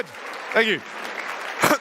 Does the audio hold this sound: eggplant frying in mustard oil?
no